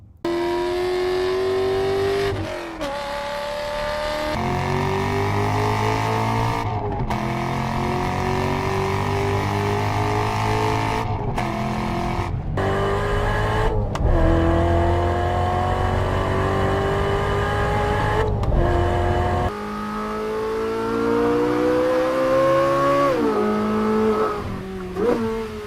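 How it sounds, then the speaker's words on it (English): A Chevrolet Corvette Z06's V8 exhaust revs hard through repeated gear changes, each pull rising in pitch then dropping with brief gaps at shifts, loud and close with no voices. "all backed by some of the most thrilling exhaust notes ever heard from a V8 production car"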